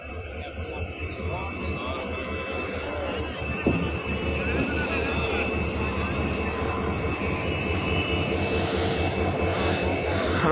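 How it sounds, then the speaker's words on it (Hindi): Diesel locomotive engine drones steadily and close, a continuous low rumble with a rising hiss toward the end and a brief clank partway through. "हमारा प्यारा डीजल लोकोमोटिव आ चुका है"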